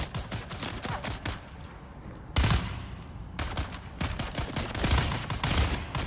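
Enemy gunfire in the survival game Dune: Awakening, with repeated volleys of rapid shots, a brief lull, a sharp loud blast, then more bursts of automatic fire at close to medium range.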